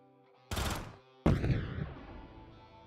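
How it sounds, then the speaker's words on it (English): Two sharp blasts of an exploding barrel in the video game Quasimorph, a short burst followed by a louder explosion that rumbles and decays over about a second. "Barrel exploding sound changed."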